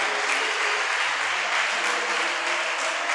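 A church congregation claps in steady, dense applause that holds at a constant, fairly loud level throughout, with no voices standing out.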